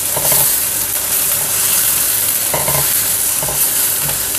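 Ingredients fry and sizzle steadily in a pan for a Rayalaseema-style uggani breakfast with green chilies, with a few louder bursts of stirring or scraping over the continuous hiss; no one speaks.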